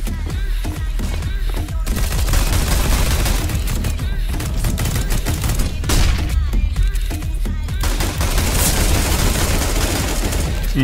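Rapid video game gunfire, played on a powerful Fermi graphics card, rattles almost nonstop in loud automatic bursts with heavy booms mixed in.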